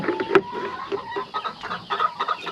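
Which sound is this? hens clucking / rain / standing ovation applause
hens clucking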